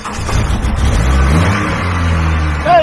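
Four-cylinder Jeep engine with a misfire, revved loud and close, rising from a low rumble into a sustained, slightly uneven drone before easing back, with no talking over it.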